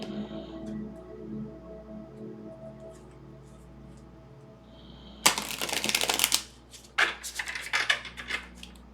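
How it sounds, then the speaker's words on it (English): Divination cards being shuffled by hand, quiet hum for the first half, then a burst of dense riffling and flicking followed by several shorter shuffling bursts, close and fairly loud. "keep shuffling for a moment until I have your card"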